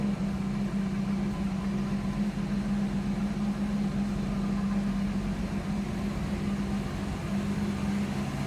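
A 1966 Ford Mustang coupe with a 200 cubic inch inline-six runs at a steady idle, a constant low hum heard from behind the car, close and even with no voices.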